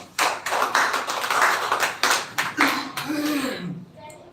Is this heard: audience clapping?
yes